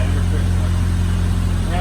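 A Honda Civic engine idles steadily with a low, constant rumble, close by and even throughout, with no speech.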